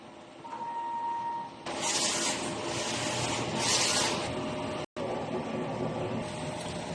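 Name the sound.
DTF printer running a nozzle test print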